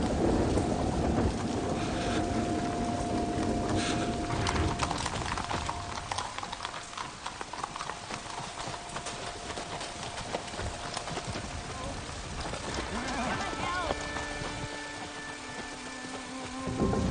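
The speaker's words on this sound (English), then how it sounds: "Abbot, Marcus, we seek shelter from the storm." A rainstorm in a medieval-set action film, with dense steady rain hiss, low thunder rumble and clopping hooves, while voices speak over it.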